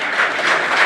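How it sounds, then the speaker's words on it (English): Brief, steady audience applause at a women's entrepreneurship event, a short wash of clapping under a second long without a clear start or end. "Can we have a bigger round of applause for each?"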